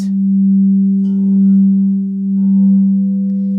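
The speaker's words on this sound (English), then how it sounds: "You hear the bowl starts feeding back. It's sort of overplayed. It's very loud." A loud, sustained tone from an overplayed singing bowl rings steadily, swelling and pulsing slightly as it feeds back into a harsh, overdriven hum.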